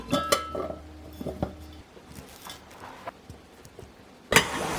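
Ingredients placed into a small steamer pot: a few light clinks and taps of cookware, scattered and close, with quiet shuffling between and a sharper clatter near the end.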